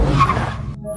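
A car's tires skid and squeal in one short, loud burst as it is driven off, then cut off abruptly.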